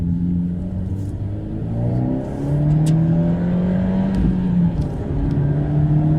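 A car accelerates along a national speed limit road, engine note rising in pitch through the gears with a steady whir of road and wind noise, heard from inside at moderate loudness.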